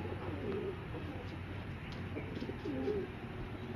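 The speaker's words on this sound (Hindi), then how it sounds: "बहुत अच्छे बने बनाए कबूतर हैं ये माशाल्लाह।" Chapra pigeons, a Sialkoti pair, give soft, throaty coos, two clear bursts several seconds apart, over a steady background murmur of other birds and low ambient rumble.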